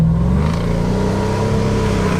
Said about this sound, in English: Hear those turbos.